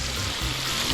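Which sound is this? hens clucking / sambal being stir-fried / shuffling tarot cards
sambal being stir-fried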